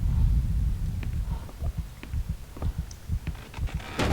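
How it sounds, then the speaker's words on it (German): Heartbeat in the Call of Cthulhu: Dark Corners of the Earth game, a steady series of low dull thumps pulsing regularly under a rumbling ambient hum, ending with a brief bright noise burst. "Und ich höre meinen Herzschlag."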